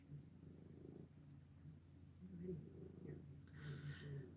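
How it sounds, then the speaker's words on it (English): A soft, continuous cat purr hums low and close, with a person speaking quietly over it. "you're just purring like crazy"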